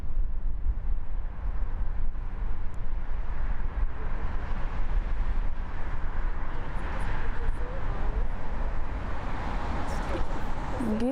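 A loud, steady roar of airliner jet engines on takeoff at Frankfurt Airport in windy conditions, with heavy wind rumble, sustained throughout and building slightly toward the end.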